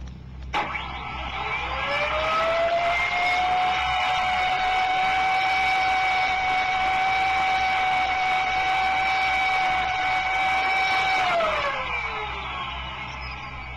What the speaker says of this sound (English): It sounds like you have an insane air raid siren under the hood of your car.